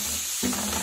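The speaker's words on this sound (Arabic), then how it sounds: "حطيت حته الزبده بلدي اهي، هروح منزله لحمتي كده" Ground meat hits hot country butter in a pan with a sudden loud sizzle midway, the broadband crackle flaring up over a faint earlier hiss and holding steady.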